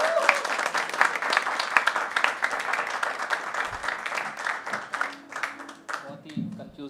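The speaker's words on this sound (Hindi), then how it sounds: "तो एक बार जोरदार तालियों से हम स्वागत करते हैं चौरे साहब का।" A mushaira audience at Habitat Mumbai claps to welcome a poet, giving dense, sustained applause for several seconds before it thins and fades, with some talk over it.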